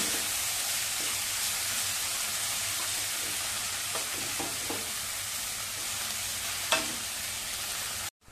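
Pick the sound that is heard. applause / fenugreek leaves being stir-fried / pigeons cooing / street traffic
fenugreek leaves being stir-fried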